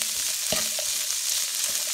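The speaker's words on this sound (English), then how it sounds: "So I'm just stir frying these vegetables together in the pot." Vegetables stir-frying in a pot give off a steady, close sizzle and crackle, with a few sharp clicks and scrapes of stirring breaking through the hiss.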